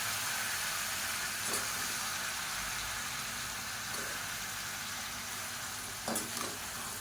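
Vegetables such as potato and carrot sautéing in oil, a close continuous sizzle and hiss with a few soft stirring clatters, no voices.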